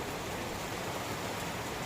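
Steady, even rain hisses without pause, a dense wash of falling water at moderate volume, with no voices.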